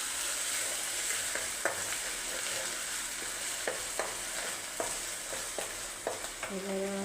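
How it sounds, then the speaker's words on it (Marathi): Ginger and garlic sauté in a hot pan, a steady sizzle with scattered clinks and scrapes of a spoon stirring, close and alone with no talk. "आले लसणाला बी जरा परतून घ्यायचं"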